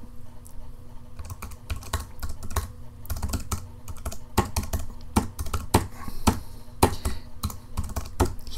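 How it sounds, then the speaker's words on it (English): Rapid, irregular clatter of computer keys being struck in quick bursts, close by and fairly loud, with no voices. "Hear my fierce typing skills."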